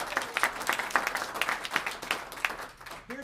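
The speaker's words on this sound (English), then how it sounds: "So let's give him a round of applause." An audience at a business training session applauds, a steady patter of many hands at moderate level with a few louder claps standing out, fading near the end.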